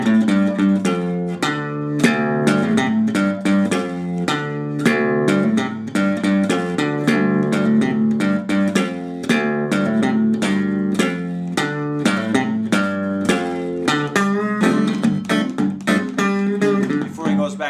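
A blues riff, picked on the guitar's bass strings, with steady rhythmic plucked notes repeating across several measures, close and unaccompanied.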